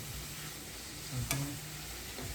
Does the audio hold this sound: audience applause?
no